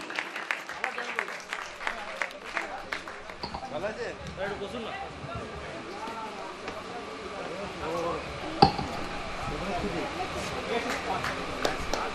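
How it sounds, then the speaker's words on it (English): Students applaud at a college cultural fest, a steady crowd of hands clapping throughout at moderate distance, with voices talking beneath it and one sharp louder hit near the end. "I would expect from you students a huge round of applause for these James who are standing here on the stage"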